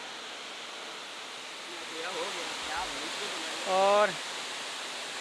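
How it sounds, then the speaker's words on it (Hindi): The Manjhar Kund waterfall near Sasaram, Bihar, pours as a steady broad roar close by, filling the whole clip, while someone speaks briefly and faint voices sound in the background. "पानी यहाँ से गिरने के बाद इधर की ओर निकल के नदी में चला जाता है"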